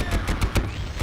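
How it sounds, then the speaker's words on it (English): Rapid burst of gunfire from a gun in a video game, about five loud sharp shots in quick succession within a second. "Oh, this gun sounds awful."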